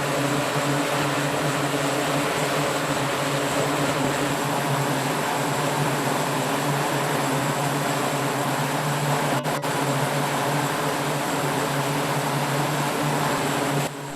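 E-2D Advanced Hawkeye turboprop aircraft taking off from an aircraft carrier, a loud, steady droning engine and propeller roar with a constant tonal hum, sustained without a break and no voices.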